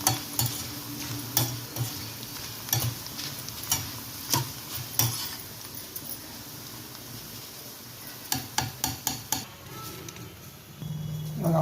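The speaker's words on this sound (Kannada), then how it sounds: "ಇವಾಗ ಅವಲಕ್ಕಿನ ಫುಲ್ ಕರ್ಕೊಂಡಿದ್ದೀನಿ ನಾನು" Thick poha (flattened rice) fries in hot oil in a pan, with a close sizzle under repeated clacking spatula strokes that come in bursts. The stirring pauses briefly, then resumes in quick taps.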